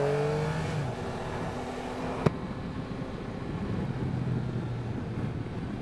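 A 2021 Yamaha Tracer 9 GT motorcycle engine drones under load on a test ride, with a rising then falling rev tone, a sharp click partway through and a continuous rush of wind and road noise.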